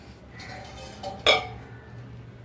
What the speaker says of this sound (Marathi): आपण आता त्याला झाकण काढून बघूया शिजलंय का.